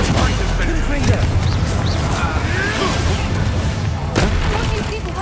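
Fire-blast Confringo spell explosions in the Hogwarts Legacy video game, a dense barrage of booms and crackling blasts with whooshes, loud and continuous, with voices shouting over the combat.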